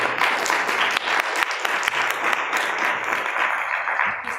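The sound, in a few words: audience applause at a conference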